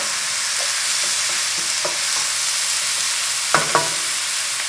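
Oyster mushrooms stir-fry in hot cooking oil over high heat, giving a continuous bright sizzle with soft scattered taps and a couple of louder utensil knocks near the end. There is no talking.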